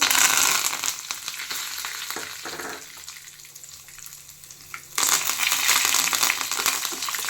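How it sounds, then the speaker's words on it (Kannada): Curry leaves fry in hot oil for garlic chutney, crackling and sizzling loudly up close, easing to a quieter simmer for a couple of seconds before flaring back to a vigorous spatter. "ಕರಿಬೇವಿನ ಸೊಪ್ಪು ಹಾಕ್ಬಿಟ್ಟು ಚೆನ್ನಾಗಿ ಫ್ರೈ ಮಾಡ್ಕೋಬೇಕು"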